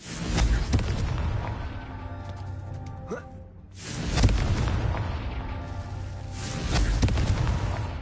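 Confringo fire spells detonating in the Hogwarts Legacy video game, a series of heavy booming blasts with rumbling tails across the clip, separated by a brief lull, alongside game sound effects.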